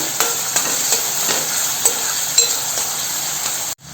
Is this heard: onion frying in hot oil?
yes